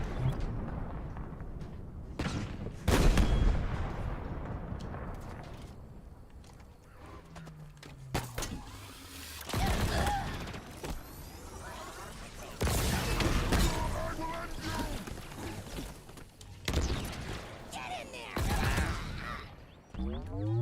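Scorpion tank combat in Halo Infinite, with grunts and elites hurling plasma grenades: loud, irregular blasts and crashing bursts of battle noise, some close and heavy, separated by quieter rumbling stretches.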